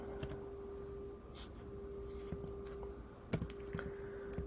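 Quiet keystrokes tap on a computer keyboard in an irregular run of soft clicks, with a few sharper presses standing out over a faint steady hum.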